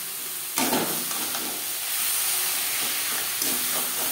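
Mutton liver is stirred into fried onion-tomato masala in a pan, producing a loud, close sizzle and steamy hiss with scraping stirs, one sharper stir near the start, and no talk.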